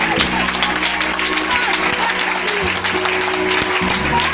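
A church congregation claps in worship, a dense, steady wash of applause running throughout while sustained music and voices continue underneath.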